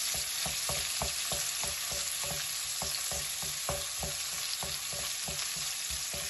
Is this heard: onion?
yes